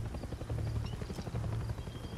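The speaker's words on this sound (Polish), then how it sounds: "Ale ten helikopter widzę nam tutaj" A helicopter's rotor in the video game Far Cry 6 thumps steadily in a low, continuous rhythm, holding close and loud throughout with no voices over it.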